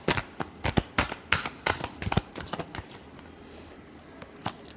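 Tarot cards are shuffled by hand in quick riffling bursts, a flurry of crisp flapping snaps that slows and thins out, then a couple of final taps.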